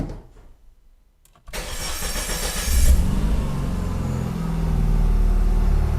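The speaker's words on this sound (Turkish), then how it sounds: "Sonrasında debriyaja basıyoruz. Debriyaja bastık. Marşa bas çek yapıyoruz." A Renault Megane 3 RS Trophy engine swapped into a Megane 2 RS cranks and catches after a quiet moment, then settles into a loud, steady idle with a brief rise as it fires up.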